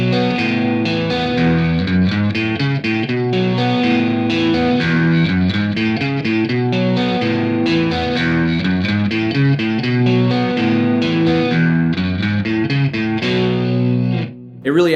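A clean, Stratocaster-style electric guitar arpeggiates chords in a dense, bright, continuous pattern that stays loud and steady over the full stretch before briefly dropping out near the end.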